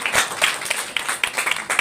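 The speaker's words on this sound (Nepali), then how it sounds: "ल ताली बजाइदिनु न" Group applause at a gathering, dense rapid clapping with irregular bursts swelling and fading over the short stretch, moderately loud and close.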